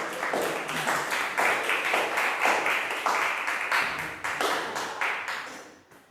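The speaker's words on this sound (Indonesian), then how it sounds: "Kita kasih aplaus terlebih dahulu semuanya" An audience applauds after a student's speech at a school event: steady, fairly close clapping from a modest crowd, rising and falling in bursts before fading out near the end.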